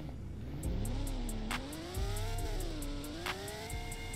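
A naturally aspirated car pulls up nearby, its engine note rising and falling through a few throttle blips and gear changes, fairly faint but steady.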